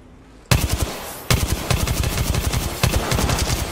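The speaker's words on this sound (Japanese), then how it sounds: "撃ってるわ。" Automatic gunfire in the battle royale shooter Apex Legends, loud close rapid volleys starting abruptly and restarting twice after short pauses, with no talking.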